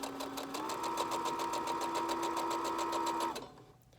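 A sewing machine with a quarter-inch seam foot runs steadily while sewing a seam on a quilt, a fast even mechanical whir with rapid rhythmic ticking that holds for about three seconds, then stops and fades.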